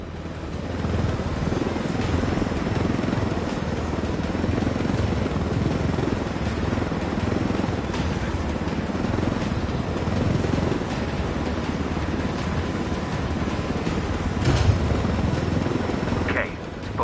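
Aircraft flying in the video game Ghost Recon Wildlands, a continuous loud rotor and engine roar held close throughout, with speech occurring over it.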